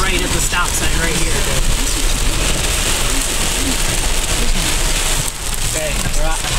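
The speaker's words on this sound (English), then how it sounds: "We can get out of this rain, hopefully. So ready to get out of this rain." Heavy rain pounds on a car during a storm chase, a dense, loud, unbroken hiss of drops drumming on the roof and windows from inside the vehicle.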